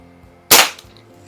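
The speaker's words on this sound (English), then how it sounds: "So let me get this last shot done in here." One crisp shot from a Crosman model 106 .22 caliber multi-pump pellet pistol, freshly back from repair, a sharp close crack with a short decay against a quiet background.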